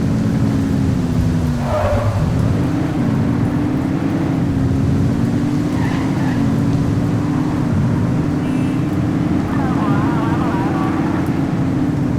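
A speeding car in The Precinct roars with a steady droning engine throughout, its pitch wavering, with brief tire squeals and occasional voices over the engine noise.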